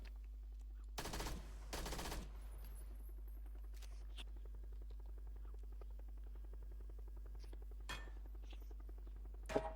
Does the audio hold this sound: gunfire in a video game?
yes